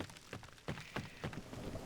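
Rain falling in a survival video game while mining ores, a steady soft patter with a few brief sharper splashes, fairly quiet and heard alone.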